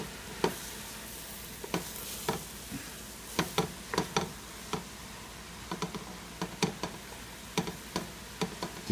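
Onions fry in a pan for Detroit-style spaghetti sauce, a soft steady sizzle punctuated by frequent light clicks and scrapes of a utensil stirring at an irregular pace, with no voices.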